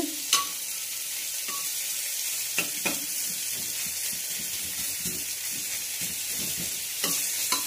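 Onions fry gently in a pan with a steady, even sizzle and occasional stirring clatters, heard close and alone.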